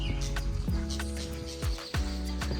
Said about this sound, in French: Et le seul bruit qu'il y a ici, c'est le bruit des oiseaux.